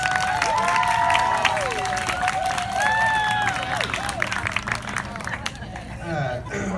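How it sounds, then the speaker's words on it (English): Crowd at a Nacogdoches pride rally applauds and cheers steadily, a dense wash of clapping with whoops and scattered voices that holds throughout before thinning slightly at the end. "Round of applause as he makes his way up, please."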